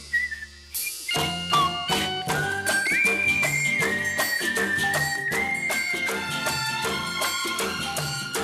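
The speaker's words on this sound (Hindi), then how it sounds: "एक सिंपल सी सीटी, यस, जस्ट अ विसल" A person whistles a lively melody with musical backing, bright sliding notes carried over a steady rhythmic accompaniment, clear and prominent throughout.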